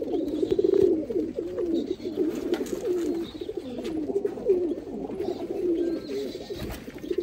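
A pair of pigeons coos close by in continuous throaty, rolling bursts, one call running into the next with soft rustles in the background.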